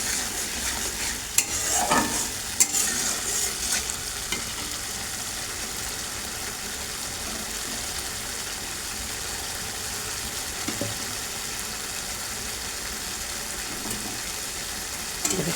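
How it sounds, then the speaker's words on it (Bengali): Spice paste for a raw green banana dish fries in oil in a pan, a continuous hissing sizzle with a few scraping stirs and clinks early on, then steady frying alone. "মশলাটাকে এবার আমি সুন্দর করে একদম পুরো ভালো করে কষিয়ে নেব।"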